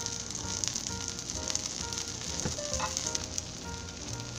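Takoyaki batter sizzles in a twelve-hole takoyaki pan, a steady close frying crackle with faint clicks of turning picks over a low background hum, no talking.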